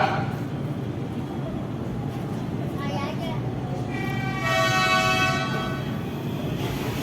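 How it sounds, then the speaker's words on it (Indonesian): A two-tone horn on a new Indonesian KRL electric commuter train sounds over the rumble of rail traffic, a harmonic tone that shifts pitch before holding a sustained blast, with a voice talking briefly. "Dua nada klaksonnya teman-teman"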